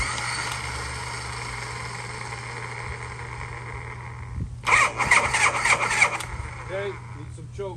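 A 1979 Harley-Davidson FXEF Shovelhead motorcycle engine catches near the end after a steady idle-like hum, bursting into a rough, loud rumble with choppy revving, and someone talks beforehand.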